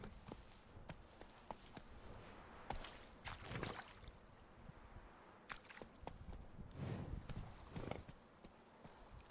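Geralt's horse Roach trots along in The Witcher 3, hooves clip-clopping in a steady rhythm, close and fairly soft over a quiet outdoor ambience.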